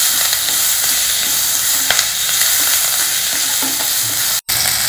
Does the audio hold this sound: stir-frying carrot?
yes